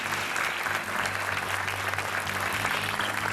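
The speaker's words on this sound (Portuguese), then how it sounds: "para já um aplauso para a Inês Costa" A studio audience on the RTP 1 game show Joker breaks into loud, sustained applause, dense and continuous clapping filling the whole stretch with no talk over it.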